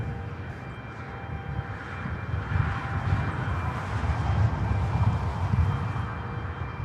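A Delta Airlines Boeing 737-800 arriving at Los Angeles International Airport from SFO produces a steady, distant jet engine roar that swells gradually and holds fairly even throughout, with no voices.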